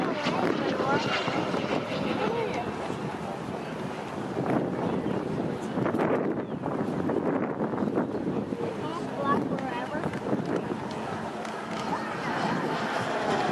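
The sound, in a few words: radio-controlled model aircraft flying a slow roll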